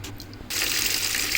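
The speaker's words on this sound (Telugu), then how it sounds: "ఉప్పేసిన తర్వాత మనం వాటర్ పోసి ఈ ఆకుకూరని ఒక 2-3 సార్లు ఫ్రెష్గా కడుక్కోవాలి." Tap water runs to wash salted amaranth greens, turning on about a third of the way in and then gushing steadily and fairly loudly to the end, with no voices.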